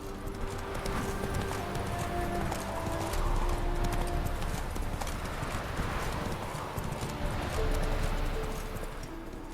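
Roach the horse clip-clopping along in The Witcher 3, a steady rhythmic patter of hooves close by, continuous over ambient game sounds with faint background music.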